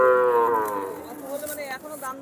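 A female calf at a cattle market gives a long, loud, close moo that tapers off, followed by people talking and market bustle.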